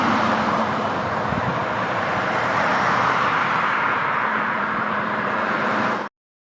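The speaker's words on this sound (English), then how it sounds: "Beautiful live traffic." AI-generated city-centre traffic ambience, a dense, loud, continuous wash of road noise from cars and passing vehicles, steady throughout before cutting off abruptly.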